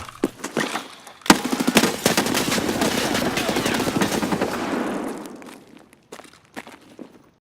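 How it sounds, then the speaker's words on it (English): Gunfire is exchanged in the video game Escape From Tarkov: a loud crack, then a dense sustained burst of automatic fire that trails off into scattered shots and clatter. "I make my way back upstairs to engage the enemy and we start returning fire."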